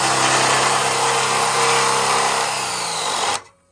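A power drill whines loudly and steadily for a few seconds, its pitch sagging slightly under load, then it cuts off abruptly.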